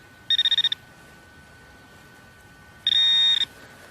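A Garrett Carrot metal detector pinpointer beeps twice: first a quick stuttering burst of short beeps, then after a pause a longer steady tone, both close and loud over faint outdoor background.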